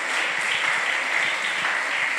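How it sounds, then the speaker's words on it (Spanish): A church congregation applauding, dense steady clapping from many hands filling the room, sustained throughout without talk. "Dele un aplauso al Señor."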